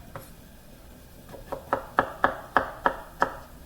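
A knife slicing cucumber about 0.3 cm thick on a cutting board, a run of seven or eight crisp, evenly spaced chops that grow louder after a quiet start, close and without talking.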